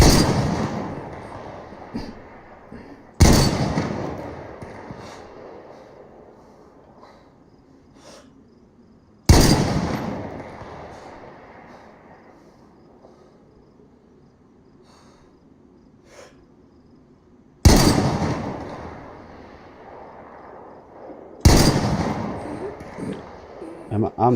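Gunfire in the DayZ video game during an A.I. battle: five sharp, loud reports spaced several seconds apart, each trailing off in a long fading tail over quiet background.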